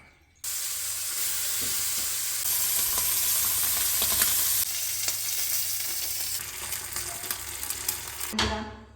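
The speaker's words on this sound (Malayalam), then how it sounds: "ചെറിയ ഉള്ളിയും കരിയേപ്പിൻ്റെ ഇലയും വറുത്തിടുക" Shallots and curry leaves dropped into hot oil burst into a loud, steady hissing sizzle that swells midway, with faint stirring, then ends in a clatter.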